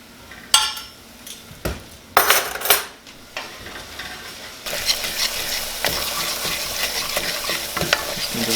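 Gac fruit with sugar and salt cooking in a pot: a few sharp metallic clinks and scrapes of stirring, then a steady sizzling bubble that continues to the end, close and moderately loud.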